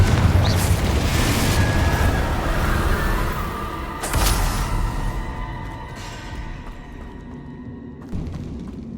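The Confringo fire spell from Hogwarts Legacy bursts in a deep booming explosion, followed by a second sharp blast and a rumbling decay, loud and close, ending with a smaller pop.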